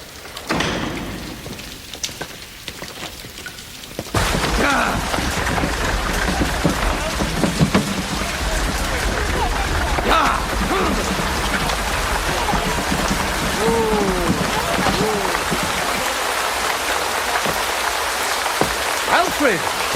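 Rain pouring onto surfaces outdoors in a medieval-set drama scene, starting softer then rising abruptly to a steady, loud patter with occasional thuds and voices mixed in.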